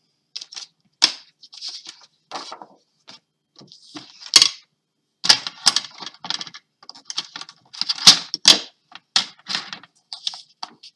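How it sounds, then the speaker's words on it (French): Scissors snipping through paper for a black-and-white scrapbook album page, a run of short crisp cuts in irregular bursts with brief pauses, close and clear, no talking. "Alors, on va découper."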